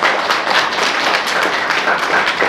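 An audience at a Shrimad Bhagwat Katha gathering in Jalgaon bursts into loud, sustained applause. Dense overlapping claps fill a large crowd at steady intensity for the whole stretch.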